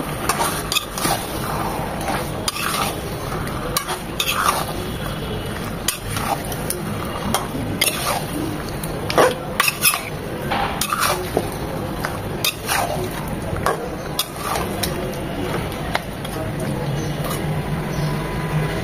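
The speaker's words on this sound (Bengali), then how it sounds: "মশলার সাথে মাংসটাকে খুব ভালোভাবে নেড়ে চেড়ে মিশিয়ে নেব" Beef is stirred with spices in a cooking pot, a steady close scraping and squelching with a faint sizzle and occasional metal knocks, continuing for a long stretch.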